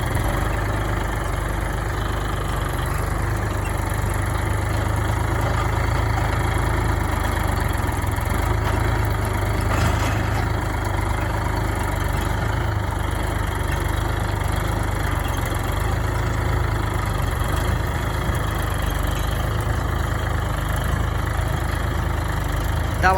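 A New Holland 3630 tractor engine runs steadily with a loud, continuous drone while ploughing a field, holding an unbroken mid-low rumble throughout.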